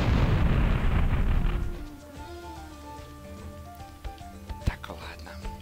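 A loud, broad rumbling blast fills the first two seconds in the Sheep Dog 'n' Wolf video game, fading into quieter game music with scattered small pops and a softly speaking voice.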